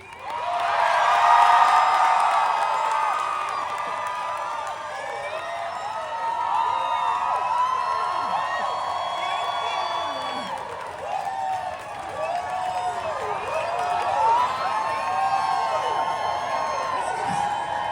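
A theater crowd gathered for a Broadway Hamilton outdoor performance event screams and cheers loudly and continuously, with whoops and high-pitched shrieks rising and falling for nearly eighteen seconds and no speech over it.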